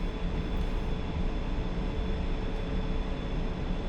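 A military jet in DCS World taxis at 60% RPM, its engine a dense, steady roar with a constant high whine, unbroken and close throughout.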